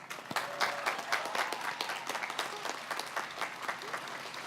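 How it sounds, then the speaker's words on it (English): Commencement crowd at a college of environmental design applauding families and supporters, a full, sustained wash of clapping from many hands that stays even throughout the clip. "Let's offer them a round of applause."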